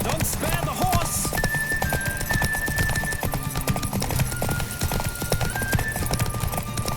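A horse gallops in Witcher 3, the video game, with dense rhythmic hoofbeats carrying loudly throughout, underscored by sustained music tones and brief in-game sounds.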